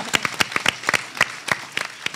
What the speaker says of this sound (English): Can somebody please clap for Greenville?